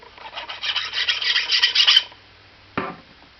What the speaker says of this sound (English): I take my fine file and just remove the burrs from the outside edge